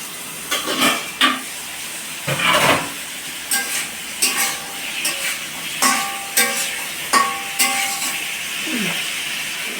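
Pointed gourd (potol) frying in a pan on a low-flame gas stove, with a soft steady sizzle broken by repeated scraping and stirring clatters of a spatula, close and moderately quiet.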